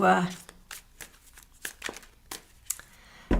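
Tarot cards being shuffled by hand, a run of crisp riffling flutters and soft slaps close by, ending with a sharp tap.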